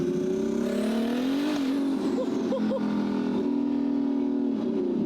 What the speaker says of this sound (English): That's exhaust speaking right now.